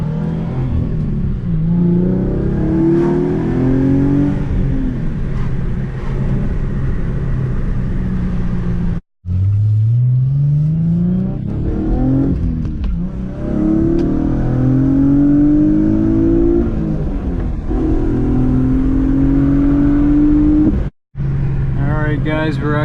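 An Infiniti G35 driving on the road, its engine revving up through gears in rising sweeps, loud and close from inside the cabin, with brief cutouts and a person talking over it.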